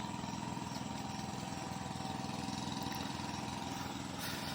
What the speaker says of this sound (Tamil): அங்கே ஒருத்தர் உழவு அடிச்சுட்டு இருக்கா. இப்போ தொழில் அந்த சவுண்டு கேட்கா